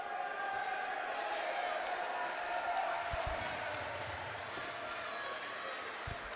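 A home crowd applauds two boxers after a bout at the Inter Services Boxing Championships, a broad, sustained patter of clapping and cheering throughout, with a few low thumps near the middle and end.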